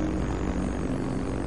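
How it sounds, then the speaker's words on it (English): A steady, loud, unbroken engine drone from a WWII German V-1 flying bomb, the pulse-jet-powered Buzz Bomb, holding level throughout with no voices. "The V-1 gets nicknamed the Buzz Bomb for the loud noise its jet engine creates."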